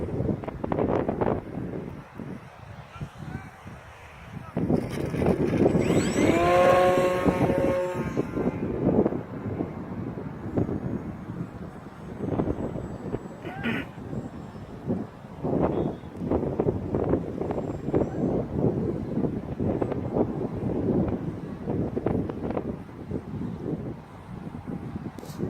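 Strong outdoor wind buffets the microphone continuously for the whole stretch, a loud rumbling roar with gusts, while a Night VisionAire model aircraft flies in high winds; a brief whining motor sound rises and falls early on.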